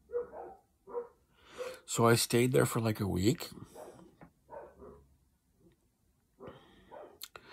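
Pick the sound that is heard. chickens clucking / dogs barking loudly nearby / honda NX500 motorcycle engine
dogs barking loudly nearby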